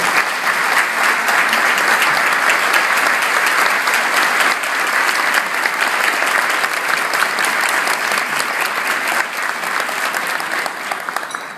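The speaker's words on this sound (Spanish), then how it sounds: "acompáñenme con un aplauso a dar la bienvenida a Emilio" A large audience claps steadily and loudly for about eleven seconds to welcome a guest at a Telemundo television screening event, a dense continuous applause with slight fading toward the end.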